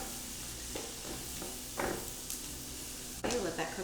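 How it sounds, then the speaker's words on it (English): Onion and freshly crushed garlic sautéing in a pan for a Tuscan salmon and penne pasta: a faint steady sizzle with occasional stirring scrapes and utensil clinks, quiet and close. "I'm going to add 2 cloves of freshly crushed garlic."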